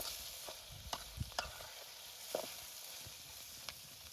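Chicken liver frying in a pan outdoors, a steady low sizzle broken by scattered scraping stirs and a few sharper clinks of a utensil against the pan, all fairly quiet with no talking.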